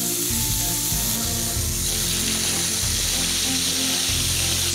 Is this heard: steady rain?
no